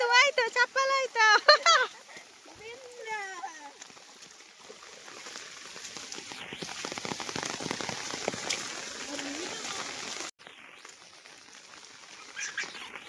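Heavy rain falls in a forest, a steady dense hiss of drops on leaves and ground that swells and holds throughout, with high chirping calls standing out near the start.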